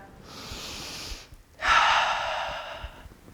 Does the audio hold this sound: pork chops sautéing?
no